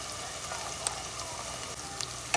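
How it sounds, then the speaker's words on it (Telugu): Sliced onions with ginger-garlic paste frying in a pan until browning, a continuous close sizzle with a few sharp crackling pops, no talking. "కొంచెం బ్రౌన్ కలర్ వచ్చే వరకు వేగాలి ఉల్లిపాయ ముక్కలు."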